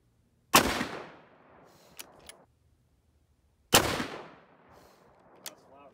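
Two loud 6.5 Creedmoor rifle shots ring out outdoors about three seconds apart, each a sharp blast trailing into a long echoing decay, with small metallic clicks of the action between them.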